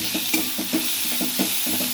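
Ginger paste hits hot oil with fried garlic and green chili over a medium flame, a close, steady sizzle broken by regular scraping stir strokes about every half second.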